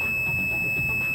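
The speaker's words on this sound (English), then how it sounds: "Okay, so it's beeping." A multimeter on continuity test gives a continuous high-pitched beep, steady and unbroken for the whole short moment, over faint background noise.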